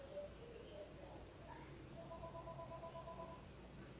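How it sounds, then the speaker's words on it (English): A phone rings somewhere in the room, faint, distant tonal trills in short repeated bursts over a low, steady background hum. "Your phone is ringing."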